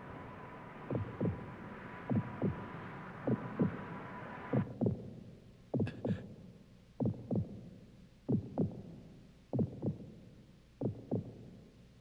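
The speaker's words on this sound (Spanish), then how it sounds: "El latido de la corona." Cartoon sound effect of a magical crown's heartbeat: steady, evenly spaced double thumps, low and deep, repeating about a dozen times over a faint hum that shifts partway through, with no voices.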